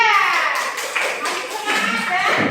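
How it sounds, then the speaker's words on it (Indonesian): A high school class claps for group 3 in a classroom: a short burst of mixed hand claps that thins out while students and a teacher talk over it. "Tepuk tangan untuk kelompok 3."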